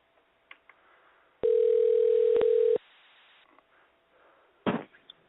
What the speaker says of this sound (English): We'll try Roger one more time here.